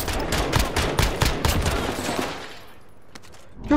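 Rapid automatic gunfire from a gun in a video game, a loud dense fusillade of shots for about two seconds that tails off into quieter scattered noise, with a final sharp shot at the end.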